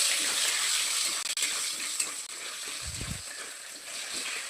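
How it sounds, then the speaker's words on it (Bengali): Potatoes fry in a pan with turmeric and salt while being gently stirred, producing a bright, steady sizzle with a couple of brief scraping knocks. "এখন এটা হালকাভাবে নেড়ে দেবো।"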